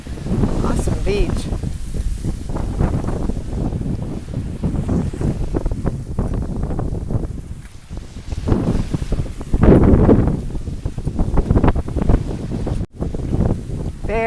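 Strong wind buffets the microphone on a sunny beach, roaring in heavy gusts with surf and water in the background while someone talks over it.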